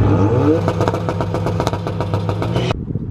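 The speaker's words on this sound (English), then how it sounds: "a pretty loud and obnoxious but always awesome MBRP exhaust" A loud, throaty MBRP aftermarket exhaust on a flood-salvaged Ford Focus RS revving close by, rumbling and pulsing steadily before cutting off abruptly near the end.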